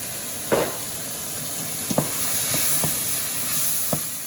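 Chopped onions and carrots sizzle in a pan for a Lebanese beef stew, a steady close hiss broken by a few soft clicks and taps of stirring.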